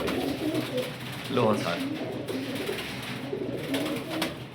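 Pet pigeons cooing close by in a loft, soft throaty coos repeating under a voice calling out.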